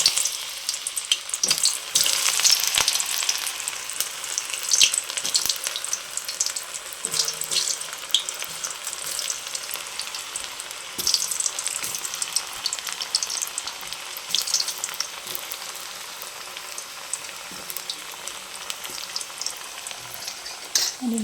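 Food frying in hot oil in a pan while being stirred, a dense continuous sizzle with occasional scrapes and light knocks, close and steady, easing slightly toward the end, with no talk.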